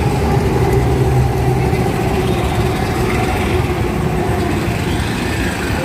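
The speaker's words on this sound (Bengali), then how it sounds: "এই দেখো মেট্রো।" A metro train passes with a loud, steady rumble and roar that fills the whole stretch, with no letup and no voices.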